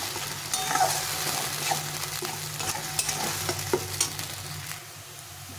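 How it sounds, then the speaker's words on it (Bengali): Mashed bottle gourd leaves with turmeric are stir-fried in a pan, giving a continuous close sizzle broken by regular scraping stirs of the spatula, with no talking. "একটু হলুদ গুঁড়ো দিয়ে এটাকে ভালো করে কষিয়ে নিতে হবে, ভেজে নিতে হবে।"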